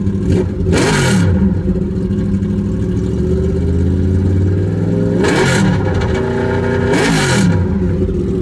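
A Honda N600 fitted with a VFR800 engine and running an open header roars loud and close, holding a steady drone with three sharp throttle blips that rise and fall in pitch.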